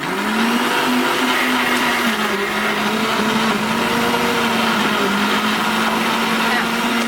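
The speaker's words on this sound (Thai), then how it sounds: "เทใส่ลงไปในเครื่องปั่นนะคะ" A blender runs continuously at high speed blending soaked tobacco, a loud steady whirring motor drone with slight pitch wobble from start to end.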